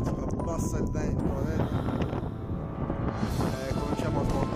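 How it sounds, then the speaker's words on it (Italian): Strong wind buffeting the microphone with a continuous roaring rumble, gusting steadily throughout. "È arrivato il vento forte"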